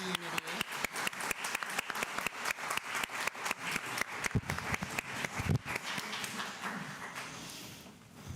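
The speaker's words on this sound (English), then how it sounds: "let us share applause and celebrate the shared ministry of this" A Unitarian Universalist congregation gathered for Sunday service claps in a steady, fairly quiet patter of individual hand claps that thins out and fades toward the end.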